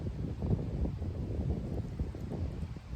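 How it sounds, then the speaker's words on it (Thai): Strong wind buffeting outdoors in Norway, a steady low rumbling roar across the microphone with gusty swells, fairly quiet overall and with no talk. "ลมแรงค่ะ"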